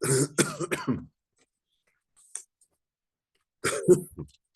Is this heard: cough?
yes